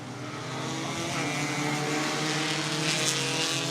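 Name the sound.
IMCA Sport Compact race cars starting a heat race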